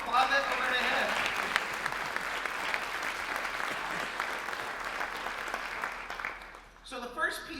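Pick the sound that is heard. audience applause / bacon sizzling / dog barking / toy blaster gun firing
audience applause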